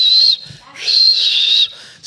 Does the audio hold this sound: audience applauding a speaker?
no